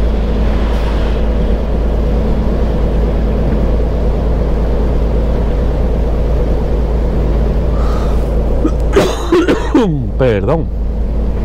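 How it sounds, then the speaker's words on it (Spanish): A lingering cough from a cold, harsh and close, breaks out late inside a truck cab over a loud, steady engine drone. "la tosecita esta que queda de residuo del resfriadillo todavía"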